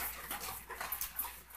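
Pit bull dogs whimper faintly in a family setting: soft, uneven whines and small yips rise and fall over about a second and a half.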